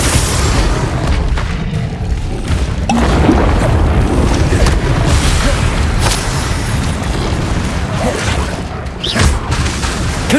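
Spell explosions in Hogwarts Legacy: a dense, continuous roar of booming blasts and crashes runs throughout, loud and close, with sharper bursts popping out of the din now and then.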